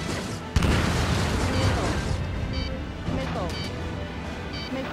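In the combat flight game Ace Combat 7, a sharp missile launch crack is followed by roaring jet and rumbling blast noise, loud and close, with radio-style voices talking over it.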